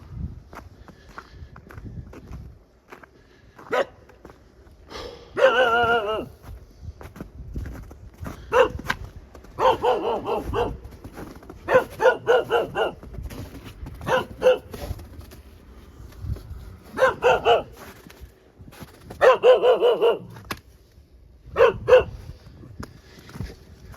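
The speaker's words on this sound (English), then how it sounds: "Hey, dog." A dog barks repeatedly in bursts over about twenty seconds, fairly close and loud, outdoors in an abandoned area of Dubovka in Russia's Volgograd Region, with footsteps between the barks.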